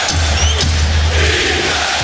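Crowd roar filling a basketball arena during an NBA Finals game between the Lakers and Celtics in Boston, a steady, loud wash of cheering voices with no break across the whole stretch.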